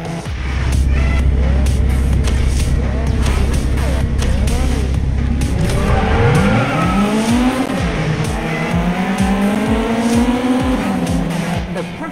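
Race cars in the GT Car Racing 2 video game snarl past with rising and falling engine whines and bursts of tire squeal. Loud, layered revving and shifting fill the whole stretch.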